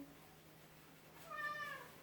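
A cat meows once, a drawn-out call rising and falling, fairly close over a quiet room hum.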